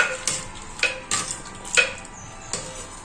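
A spoon stirs a bilimbi and lentil curry in a pan. Repeated scraping clinks against the metal come every half second or so over a low, steady sizzle.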